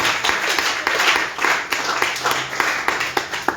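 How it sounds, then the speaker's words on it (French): A church congregation at a Christmas Day Sunday service applauds loudly and continuously, dense rapid clapping filling the room for several seconds. "Est-ce qu'on peut acclamer très fort le Seigneur?"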